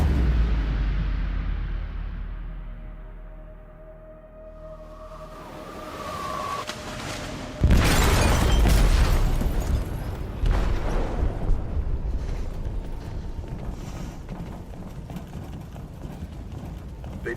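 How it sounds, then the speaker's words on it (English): A sudden explosion detonates in a ship's hold in the video game Detroit: Become Human, a loud, close, broadband blast followed by a long, heavy roaring rumble after a quieter stretch of low ambience. "They detonated an explosive in the hold."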